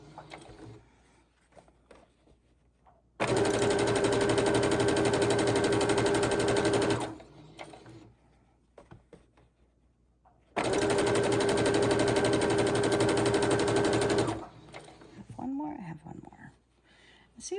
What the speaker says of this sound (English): let's go ahead and chain stitch them this way, closing up 2 sides now